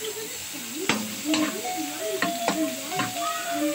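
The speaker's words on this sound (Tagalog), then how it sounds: "At ngayon igisa ko na yung aking bawang at saka sibuyas dito para sa aking lulutuin" Garlic and onion sautéing in pork fat for Bicol express crackle with a light steady sizzle, punctuated by several sharp utensil clinks and scrapes against the pan, close up.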